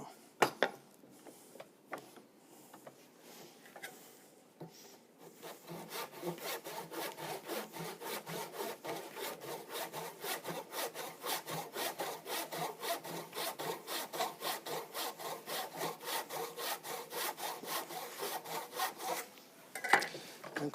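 Hand saw cutting through wood clamped in a vise, starting with a few tentative strokes and then settling into a steady, rhythmic back-and-forth rasp, close and moderately loud, with no talking.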